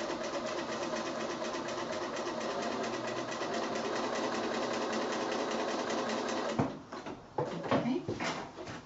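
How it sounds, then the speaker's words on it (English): A sewing machine runs steadily, stitching quilt fabric along a marked line for a quilt block, with a continuous whirring drone that stops at about 6.5 seconds, followed by a few handling knocks and rustles. "I'm just going to start sewing, and I'm just going to follow that stitching line"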